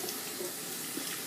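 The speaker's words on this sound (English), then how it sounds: "I have cleaned out my sink, and I'm going to rinse each one of these chickens as I do them up" Tap water runs steadily into a cleaned kitchen sink while whole chickens are rinsed, a continuous close splashing flow with no talk.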